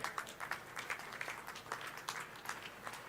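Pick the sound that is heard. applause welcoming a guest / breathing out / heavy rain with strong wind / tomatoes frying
applause welcoming a guest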